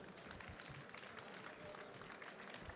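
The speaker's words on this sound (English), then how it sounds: "please give them a big round of applause" Conference audience applause at a Web3 business event, a steady, distant-sounding patter of many hands clapping, fairly quiet and continuous throughout with no speech over it.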